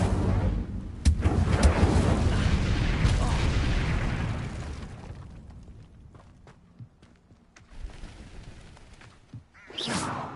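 An Incendio fire spell cast in a Harry Potter wizard video game, a loud whooshing, rumbling burst of flame that fades over several seconds, with smaller blasts and a sharp swish toward the end.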